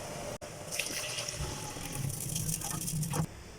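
Water and then milk are poured into freshly made caramel in a pan while cooking badami kulfi, giving a steady liquid pour and splashing that builds for a few seconds. No voices accompany it.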